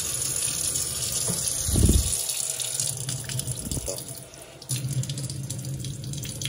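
Cold water runs steadily from a kitchen tap into a sink with a brief heavier gush partway through, close and moderately loud with no talking.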